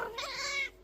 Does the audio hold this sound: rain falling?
no